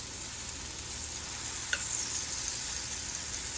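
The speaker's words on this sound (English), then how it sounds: "let's put our 김치전 in the pan" A kimchi pancake fries in a pan with a faint, steady hiss, quiet and even, broken once by a single soft click near the middle.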